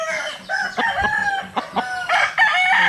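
A White Hatch Muff gamefowl rooster crows and clucks loudly at close range, with repeated harsh calls filling the short stretch and no speech over them.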